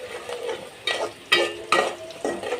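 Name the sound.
onion frying in pan for fish curry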